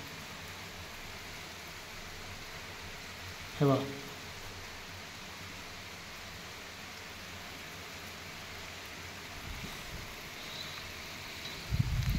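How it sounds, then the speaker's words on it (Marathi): Village rain falling steadily with the wind shifting direction, a soft even hiss of drops with occasional bumps and brief speech over it. "आता पाऊस दिशा बदलली पावसाने"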